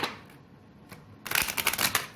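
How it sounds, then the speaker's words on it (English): Tarot cards riffle-shuffled close up, a quick burst of crisp flapping lasting about a second after near silence. "I definitely have to shuffle because it's like fighting the shuffle right now."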